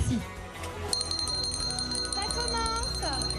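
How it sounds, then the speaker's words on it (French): A bell rings to open a Valentine's Day speed-dating event in northern France, a bright sustained ringing tone that lingers over a murmuring room with people talking. "Et lorsque je sonne la cloche, eh bien on va commencer."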